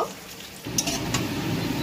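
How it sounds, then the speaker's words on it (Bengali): Potato pieces frying in oil in a pan until reddish-brown: a brief quiet moment, then the sizzle swells into a steady, moderate crackle. "এই দেখো আলুটা ভালো করে একটু লাল লাল করে ভেজে নেব"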